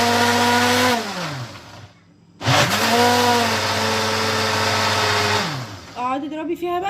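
Blender whirring loudly as it blends mango for ice cream, motor pitch sliding down under load, stopping briefly, then restarting and running steadily before slowing at the end.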